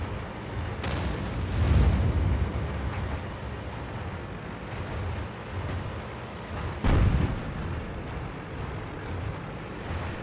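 Tank cannon fire in World of Tanks on the Sand River map: two sharp, heavy booms, one early and one near the end, break through a steady rumbling battle din.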